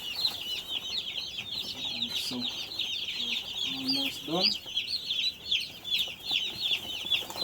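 Chickens clucking steadily on a poultry farm, a dense chorus of many birds close by with brief talk partway through.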